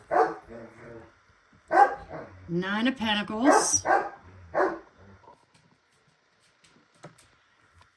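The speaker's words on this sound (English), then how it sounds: "sorry, these dogs, I don't know what's gone into them" Dogs bark indoors during a tarot card reading, short sharp bursts mixed in with a person's steady talking.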